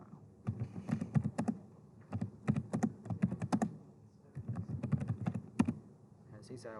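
Typing on a computer keyboard comes in quick bursts of clicky keystrokes separated by short pauses, close and fairly clear, with a voice faintly talking underneath.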